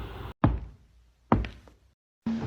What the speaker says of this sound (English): He knocks 3 times and wait. Tock, tock, tock.